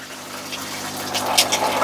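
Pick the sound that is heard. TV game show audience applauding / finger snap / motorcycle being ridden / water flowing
water flowing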